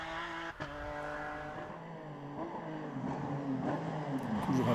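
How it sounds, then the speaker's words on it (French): Porsche GT rally car on the roads around Roeselare, engine note rising and falling as it revs and accelerates past, growing louder toward the end, with no voices. "regarder et surtout écouter la Porsche sur les routes de Roulers"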